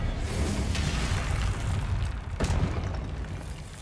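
Confringo blasting spell explosion in the Hogwarts Legacy video game, a deep rumbling boom with a sharp burst midway amid ongoing combat noise.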